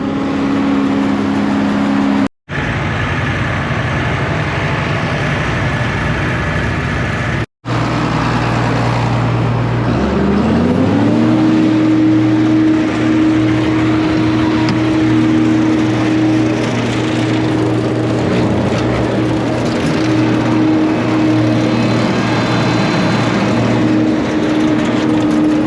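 A tractor engine runs steadily while bagging very wet, green hay, a loud close mechanical drone that shifts pitch partway through and then holds a constant hum.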